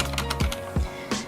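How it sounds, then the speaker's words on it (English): Keystrokes on a Corsair Strafe RGB gaming keyboard with Cherry MX silent switches: a handful of soft, muted clicks with dull low thumps, close up and spaced irregularly in a quiet room. "This is the Corsair Strafe RGB gaming keyboard, and it also has Cherry MX silent switches"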